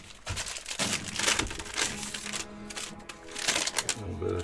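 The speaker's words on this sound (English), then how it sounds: "I'm going to take off some of this protective film" Protective film is peeled and crinkled off a new ANYCUBIC Photon 3D printer during unboxing, giving close, repeated tearing and rustling strips of sound while someone talks.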